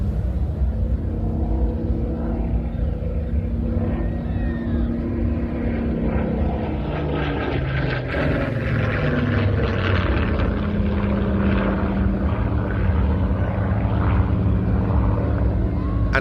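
A Battle of Britain Memorial Flight propeller aircraft of the Royal Air Force drones steadily overhead at an air show, a continuous loud engine roar filling the whole stretch with faint talk beneath.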